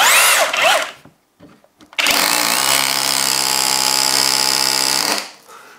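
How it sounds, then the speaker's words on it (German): A Bosch Professional drill hammer-drills into oak, a loud steady grinding whir running for about three seconds after a brief earlier burst and short pause, then winding down to silence. "Ja, also Schlagbohren oder Hammerbohren in Eiche, warum auch nicht, weil man es kann."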